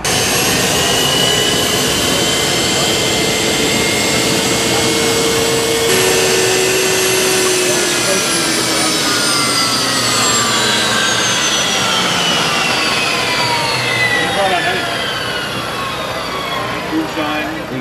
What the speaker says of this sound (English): It sounds like a jet plane or a helicopter. Yeah, you hear the turbine once and you remember that sound for life.